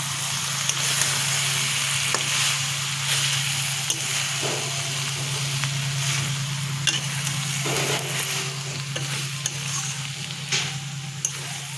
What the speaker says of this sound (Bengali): এখন আমি একটু ঢাকনাটাকে সরিয়ে দেব, একটু নেড়ে চেড়ে করবো।